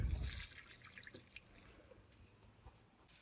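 Water poured over stacked plant levels trickles and drips downward, a brief splash at first easing into faint scattered drips in a quiet space.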